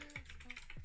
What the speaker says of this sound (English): Why do I hear your keyboard going when you're in the freaking lobby?